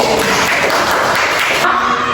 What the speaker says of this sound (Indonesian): Beri aplaus tepuk tangan juga buat Andi